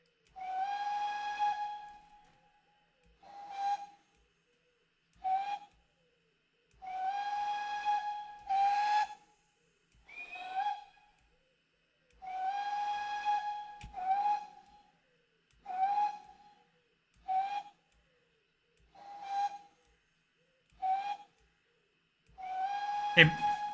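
A GWR Large Prairie steam locomotive whistle in Train Simulator Classic blows a series of short and long blasts, each a bright steady tone edged with hiss, separated by brief silences.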